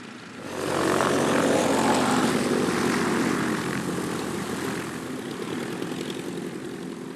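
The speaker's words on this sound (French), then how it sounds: "Le Moran 230 prit son envol à quelques mètres de moi" A Morane 230 propeller airplane takes off at an air show at La Ferté-Alais, its engine swelling quickly to a loud, close roar that holds and then slowly eases as it pulls away.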